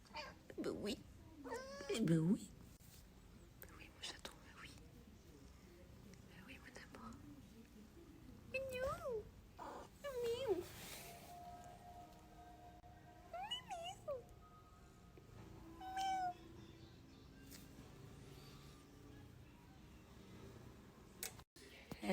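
A kitten meows repeatedly indoors: several short, close mews, with one louder cry near the start, scattered among soft, quiet talk.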